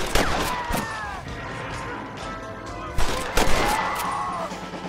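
Gunshots in Red Dead Redemption ring out in loud, sharp cracks, a couple near the start and a cluster around the three-second mark, over a steady game ambience with ringing tonal tails.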